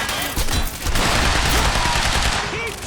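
Loud, rapid bursts of automatic gunfire in the video game Quantum Break, dense and sustained across a few seconds with a brief dip before the firing resumes.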